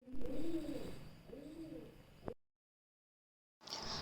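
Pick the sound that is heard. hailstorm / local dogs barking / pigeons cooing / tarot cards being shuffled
pigeons cooing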